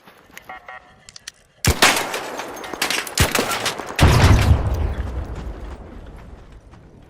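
Gunshots in the video game ARC Raiders: faint clicks, then a loud crack, more sharp shots at intervals, and a heavy boom that rolls into a fading rumble, all close and punchy.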